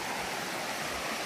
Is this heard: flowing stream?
yes